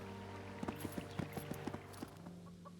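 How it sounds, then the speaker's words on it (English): Horse hooves clip-clop in the fantasy strategy RPG Disciples Liberation: a short run of quiet, hollow hoof knocks over a soft ambient game background, fading out after a few seconds. "The sound of your horse's hooves disturb an old soldier from his small farmhouse."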